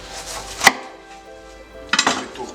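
A kitchen knife chops through Chinese cabbage for kimchi: one sharp thunk against the board, a pause, then a quick cluster of closer cuts near the end, with no voices.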